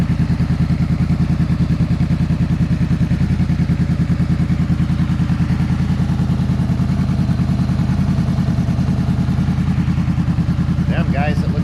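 A Honda CB500F motorcycle idles after an oil change with a steady, even engine putter and a rapid mechanical pulse that holds near and constant throughout, with a brief clink near the end.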